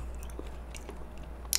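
Crunchy fried chicken gizzards are chewed close to the mic, with soft, irregular crunches and bites over a low background hum, ending in a sharper crackle.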